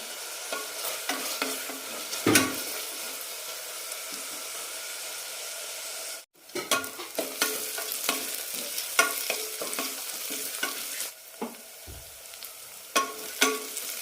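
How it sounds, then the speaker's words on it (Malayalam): Tomatoes sautéing in a pan for beetroot curry: a continuous sizzle with frequent spoon strokes and scrapes, broken by a brief silent gap partway, then resuming with rhythmic stirring and occasional clanks. "തക്കാളി നന്നായി വേവുന്നത് വരെ വഴറ്റാം"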